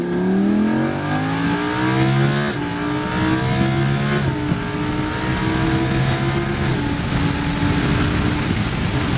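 A car accelerating hard down the straightaway at Circuit of the Americas in Austin, a loud, close engine whose pitch climbs steadily, with brief dips at gear changes as it keeps pulling.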